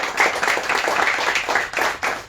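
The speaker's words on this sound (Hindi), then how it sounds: "सभी लोग एक बार जोरदार ताली बजाइए" An audience claps together at a devotional Hari Katha gathering in Holland, a dense, steady burst of many hands close by with no talk over it.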